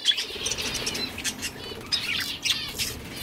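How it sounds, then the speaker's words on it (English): Pet birds at home flap their wings in quick bursts and let out sharp, high chirps throughout, fairly close and with no one talking. "And I got my mum's birds."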